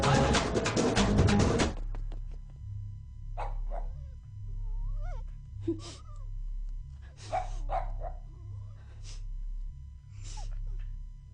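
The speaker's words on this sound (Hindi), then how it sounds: "जब भौंकने बोला था तब नहीं भौंका, अब भौंक रहा है।" A dog barks and yips several times in short bursts, with whimpering pitch-bending calls in between, over a low steady hum after a loud opening noise.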